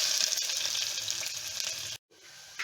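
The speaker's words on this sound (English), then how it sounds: "Now the oil is hot, so we are going to add on the curry leaves and" Curry leaves and sliced onions frying in hot oil produce a steady, close sizzle for about two seconds, then a momentary cutout before the sizzling resumes more softly.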